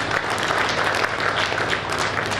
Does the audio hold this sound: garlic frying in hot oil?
no